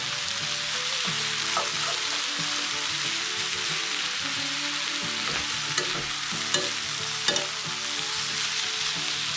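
Diced mushrooms fry in a pan with a steady broadband sizzle, punctuated by stirring scrapes and small clicks of a utensil; no one speaks.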